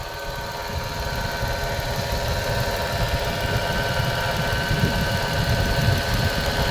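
A noisy Mitsubishi Mirage engine with only 26,000 on the clock idles steadily with a rough mechanical rattle and alternator whine, a continuous close drone with no talking.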